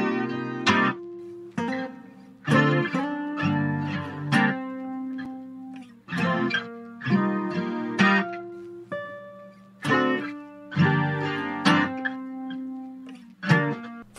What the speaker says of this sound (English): Together with the main guitar, it sounds like this.